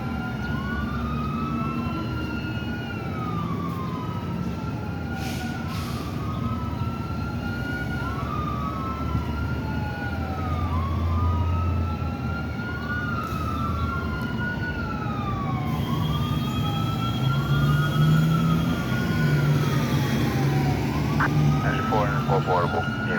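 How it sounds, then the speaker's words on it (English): Emergency vehicle siren wailing in repeated rising and falling sweeps at a city bus crash scene, moderately loud and continuous over traffic rumble, with a person talking intermittently. "And I know he hears that siren in the back,"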